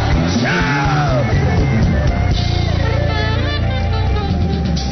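A church congregation shouts the name of Jesus together, loud overlapping yells rising from a crowd of voices in a large hall, continuing as a sustained roar.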